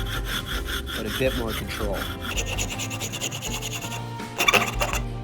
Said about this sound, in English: I can use the rasp